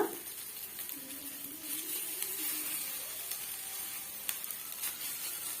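An egg and rice snack fries in oil over medium heat, a soft, steady sizzle with faint stirring clicks, close but quiet and without talk.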